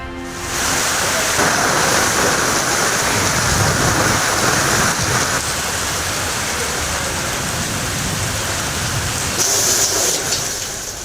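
Heavy rain pours down steadily during a downpour in the Tiruvannamalai, Vellore, Cuddalore and Ranipet districts, a dense, continuous hiss that holds unbroken and loud throughout, with no voices.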